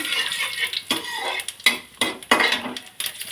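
Whole garam masala dropped into hot oil in a pan, a hissing sizzle close up, broken by sharp clinks and scrapes of a utensil against the pan.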